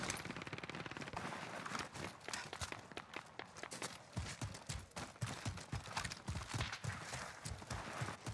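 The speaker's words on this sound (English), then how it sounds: "Receiving hostile fire" Hostile automatic gunfire in a battle royale style video game, rapid clustered shots and impacts that grow denser and louder in the second half, with brief voice callouts underneath.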